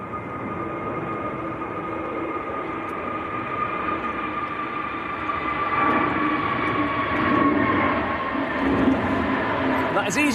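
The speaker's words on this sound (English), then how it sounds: "That is EasyJet to Hurghada down in Egypt, A320neo blasting out" An EasyJet Airbus A320neo taking off from Manchester Airport, bound for Hurghada, its engine roar and whine building steadily from a moderate distance and swelling louder toward the end, with voices in the background.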